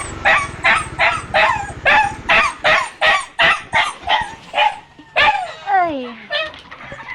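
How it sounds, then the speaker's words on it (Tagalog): A pet dog barks noisily at its owners arriving home, a rapid close series of a dozen or so sharp barks, then a few whining yips at the end. "yung alaga naming aso ay sobrang ingay na dahil nakita"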